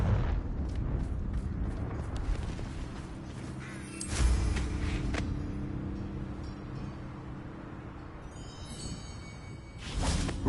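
Fiery Confringo spell blasts in Hogwarts Legacy, with a sharp booming burst near the middle and another at the very end over a steady, rumbling game background.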